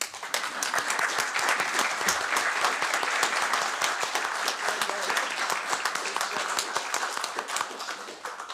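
A council chamber gives sustained applause for a maiden speech, a dense, steady round of many hands clapping that holds evenly for several seconds, with no one speaking over it.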